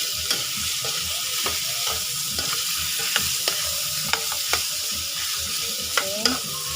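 Meat sizzles steadily in a pan for an Ilonggo dish, with repeated scraping stir strokes and occasional sharp utensil clinks standing out close and clear.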